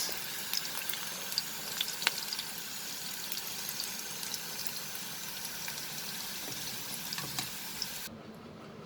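Mixed vegetables frying in hot oil in a pan, a steady close sizzle and crackle with small pops throughout, then dropping away abruptly near the end.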